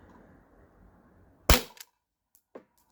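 A T4E HDP50 Gen 2 CO2 pistol fires a single sharp, loud shot at cans outdoors, followed by a brief clatter and a couple of faint small impacts as the quiet background settles.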